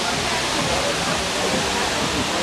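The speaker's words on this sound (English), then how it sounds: "here's the waterfall at nighttime" A Las Vegas waterfall at night roars as a dense, steady rush of falling water, loud and unbroken throughout, with no clear voices over it.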